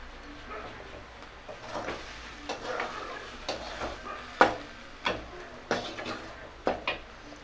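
Fried potatoes and taro with masala are stirred in a pan for a fish curry, giving a low sizzle under repeated sharp spatula scrapes and knocks against the pan at a loose, irregular rhythm.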